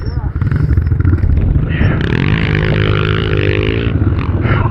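A pit bike engine snarls loudly and steadily while riding in a blizzard on a snowy hill climb, revving up and down close by with a rumbling, rattly tone and brief voices mixed in.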